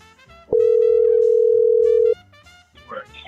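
A single steady electronic tone on an outgoing phone call sounds loud and clear for about a second and a half, with quiet voice sounds before and after it.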